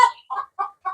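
Indigenous chickens on a spacious farm give four short, close clucks in an even rhythm, alone and clear.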